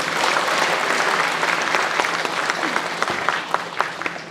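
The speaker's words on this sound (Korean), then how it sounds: "바로 우리가 주인공입니다. 박수!" Broad, steady applause from an audience at a town citizens' meeting in Sejong, many hands clapping together for about four seconds with a few sharper individual claps standing out near the end.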